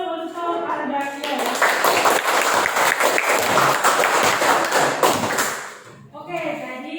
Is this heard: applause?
yes